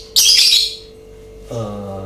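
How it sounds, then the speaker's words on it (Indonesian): At night a bird gives a sharp, loud, hissing squawk close to the microphone, then a lower tonal call follows a second later, with no talking. "saya lebih deketan biar kedengaran, karena kedengaran bisik burung"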